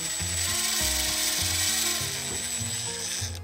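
Screws 12 cm long being driven into wood during repair of a goat pasture, with a power tool's steady mechanical whir and stuttering ratchet-like pulses throughout, loud and close, no talking.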